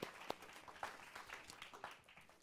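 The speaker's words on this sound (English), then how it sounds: "You got to keep clapping for Team C." Scattered audience clapping for Team C at a live network event, uneven individual claps with some sharper nearby hits, fairly faint and thin, with no clear talking.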